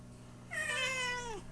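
A domestic cat gives a single clear, drawn-out meow with a falling tone, close by against a quiet room.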